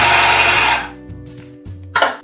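Kitchen mixer grinding grated coconut into powder, a loud whirring motor burst that cuts off after under a second, followed by quiet handling and a brief second whirr.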